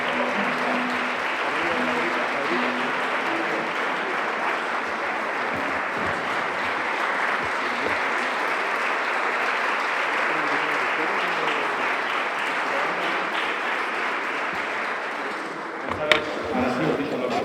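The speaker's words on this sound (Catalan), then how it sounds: "un aplaudiment" Sustained audience applause at a classical guitar competition concert fills the space evenly, a dense steady wash of many hands clapping that holds throughout with no pause, ending in a brief sharp knock near the end.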